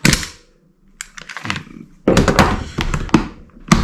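Dry fire of a Glock 17 airsoft pistol with a hammer bearing upgrade: a string of sharp, close mechanical clicks and snaps at uneven intervals, with handling noise and a short word or two in between.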